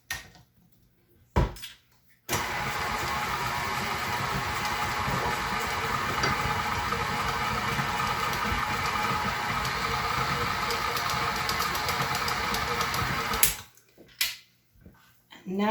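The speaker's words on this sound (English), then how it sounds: "Let's give this another stir." Vegan sugar cookie dough being mixed in a mixing bowl produces a loud, even, motor-like whir. It starts abruptly, runs steadily for about eleven seconds, then cuts off, with brief quiet knocks before and after.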